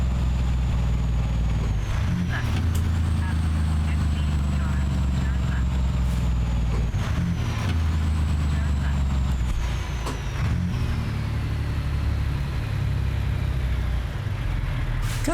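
Diesel truck engine decelerating in American Truck Simulator, a steady low rumble with engine-brake chatter across the whole stretch, with occasional sharp air-brake hiss and a rising whine, under continuous loud play.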